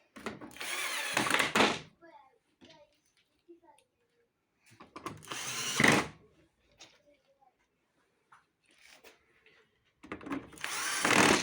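A power driver whirs in three short bursts while fastening bolts on a washing machine door during a door latch replacement, with quiet clicks and handling noises between the runs.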